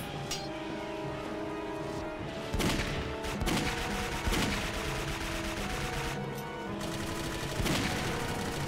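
Gunfire in the video game Clive Barker's Jericho, with sharp bursts and rapid volleys over a steady background rumble of game ambience.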